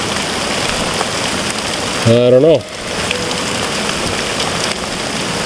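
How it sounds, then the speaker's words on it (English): Rain and hail fall steadily during a storm on a hike near Mount Keogan, Okanagan Falls, BC, with a close, constant hiss and patter. A person speaks briefly in the middle. "Oh, the hail's getting bigger."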